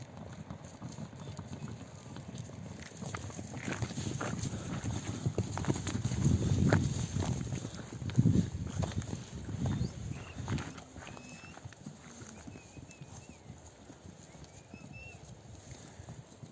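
Horses' hooves clip-clop on the ground as Bakarwal herders catch their horses near a mountain summer settlement in Pakistan. The hoofbeats are irregular and close, fading in and out, with faint birdsong above them.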